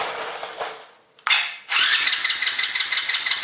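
An engine with a faulty carburetor cranks, catches and settles into a loud, close, rapidly pulsing run after a brief gap.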